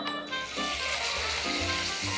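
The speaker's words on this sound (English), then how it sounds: "just look at the sizzle of the chicken" Steady, loud sizzling of chicken frying in hot olive oil, a continuous crackling hiss with no voices.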